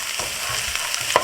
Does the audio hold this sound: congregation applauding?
no